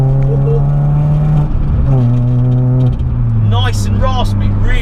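A Ford Fiesta Zetec-S with a 1.6 litre engine revs up, its raspy exhaust note rising and falling in steady harmonic sweeps, heard from inside the car under someone talking loudly throughout.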